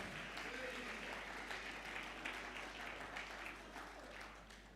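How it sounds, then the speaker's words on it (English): A room full of people at a foundation's 20th anniversary celebration gives another round of applause, a dense clapping wash that stays steady and then slowly fades toward the end, heard faintly over a low constant hum. "another round of applause for Partey people"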